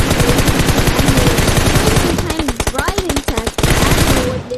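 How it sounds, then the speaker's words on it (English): Gunfire in a battle royale video game, rapid automatic bursts of sharp shots in quick rhythmic strings, loud and close, with someone talking over parts of it. "trying to find someone and hear gunshots"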